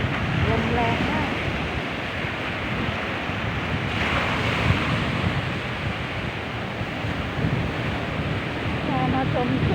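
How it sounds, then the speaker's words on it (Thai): Strong sea waves crash continuously on a Thai beach on a cold day, with heavy wind buffeting the microphone in a dense, loud roar; faint voices briefly surface beneath the surf. "พอมาชมคลื่นทะเลใหญ่ๆ"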